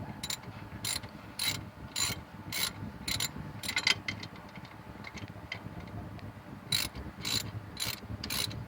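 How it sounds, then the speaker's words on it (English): A ratchet clicks in quick repeated bursts while tightening brake caliper bolts during a brake pad change on a 2004 Oldsmobile Alero. The sound is close and fairly loud, with brief pauses between strokes. "Now let's tighten everything back together."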